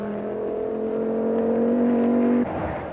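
Chris Wagner's Audi four-wheel-drive rally car, non-turbo, at the 1993 Snowman rally: a loud, close engine drone that climbs slightly in pitch, holds steady, then cuts off abruptly near the end.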